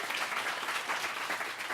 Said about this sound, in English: let's clap for Google for getting it out there